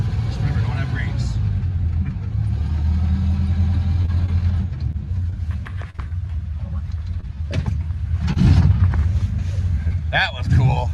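A vintage snowmobile engine runs with a steady low rumble throughout, rising in loudness near the end, while people talk and react over it.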